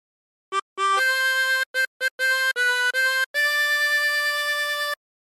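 Tremolo harmonica with 24 holes playing a short Home on the Range phrase, clean wavering reedy notes in separate breaths, some brief and some held, close and alone.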